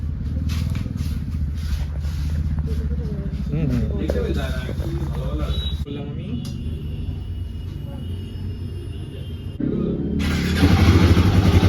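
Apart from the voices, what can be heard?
Royal Enfield Himalayan 450 motorcycle engine starting and running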